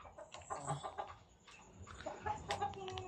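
A three-month-old hybrid Jersey Giant chicken, pure black with yellow feet, clucks in quiet, irregular bursts in a backyard farm setting, with other faint fowl sounds around it.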